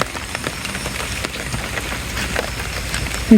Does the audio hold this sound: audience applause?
no